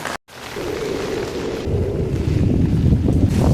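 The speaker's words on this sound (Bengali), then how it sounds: "ঝোড়ো হাওয়া এখনো চলছে" Stormy wind from Cyclone Remal roars steadily against the microphone, with heavy low buffeting that grows louder and rougher after a brief dropout near the start; no voices.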